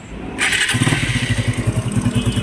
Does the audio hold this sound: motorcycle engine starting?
yes